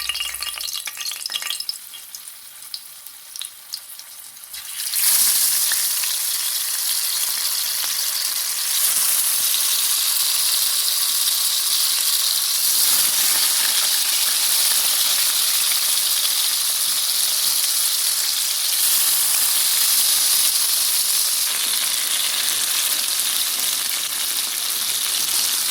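Garlic and pepper frying in hot oil in a pan ahead of adding fish, a steady loud sizzle that starts abruptly after a quieter opening and runs on without pause, with no talking.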